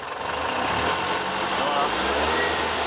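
Classic collector car engine running steadily during an ignition timing check, a continuous mid-pitched hum with a slight rise as the throttle opens, close by and fairly loud, with speech present over it.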